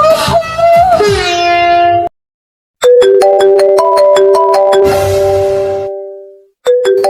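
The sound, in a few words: mobile phone ringtone ringing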